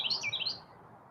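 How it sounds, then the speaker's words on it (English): A pet bird chirps several quick, high tweets in a short burst outdoors at sunset, close and clear, then fades into quiet. "Flap your wings, Chirpy"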